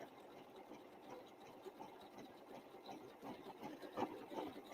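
A sewing machine runs steadily, stitching a triple top stitch through scrappy place mats backed with foam stabilizer, with a continuous close mechanical whir and no talk.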